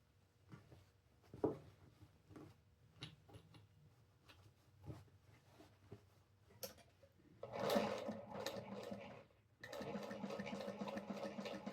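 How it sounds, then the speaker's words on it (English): A sewing machine stitching a crossbody bag, scattered short mechanical clicks and thumps at first, then bursts of steady whirring stitching toward the end, fairly faint and close. "took the bobbin out, put it back in, and then it sews again"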